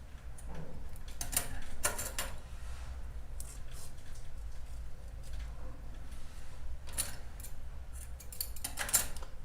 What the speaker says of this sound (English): So I've cut off the blue strand that was left, and then also cut the white.